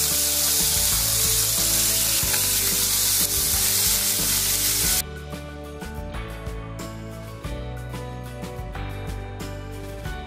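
Tomato and onion sizzle in a frying pan, a loud dense hiss for the first half that drops abruptly to a quieter fry under a steady musical background.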